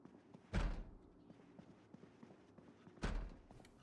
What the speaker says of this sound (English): I hear someone banging on a door.